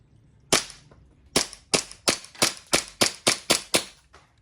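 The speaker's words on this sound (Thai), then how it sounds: "ให้ความรู้สึกนิ่มนวลนะครับเวลายิงสไลด์ เตะแบบนิ่มๆนะครับไม่ได้หนัก" EMG Glock 17 gas blowback airsoft pistol firing about ten sharp, loud cracking shots, one then a steady series at roughly three per second, close and clear with no talk.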